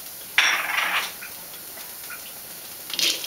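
Large dried chilies and spices dry-roasting in a pan, herbs for a spicy Thai cartilage soup, giving light scraping and tapping clatters in two short bursts with quiet pauses between them.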